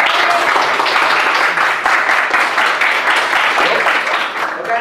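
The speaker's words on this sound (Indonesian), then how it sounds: "tepuk tangan ya" A classroom of children clapping together, loud and close, a continuous burst of quick claps that tails off slightly at the end with some murmuring underneath.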